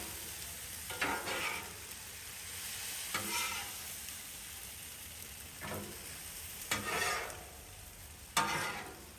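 Chicken pieces cook on a Blackstone griddle as they are mixed, with about five distinct spatula scrape-and-toss bursts rising over a continuous soft sizzle.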